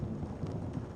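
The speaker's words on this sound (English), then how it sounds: "if you can hear some thunder and rain in the background" Steady low rumble of thunder mixed with rain noise from a thunderstorm during a heat wave, a continuous dense wash with no distinct claps, fairly faint and even throughout.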